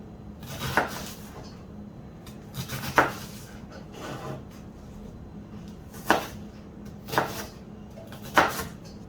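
A knife chops an onion on a board in sparse sharp knocks, about six separate hits at irregular spacing, fairly quiet in a calm kitchen.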